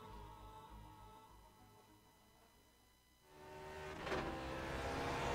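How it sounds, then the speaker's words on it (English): A GSRC Lotus 49 racing car laps Imola in the Grand Prix Legends video game, a faint engine drone that fades and then swells louder as the car accelerates away, no voices. "let's hop on board our GSRC Lotus 49 for a lap around Imola"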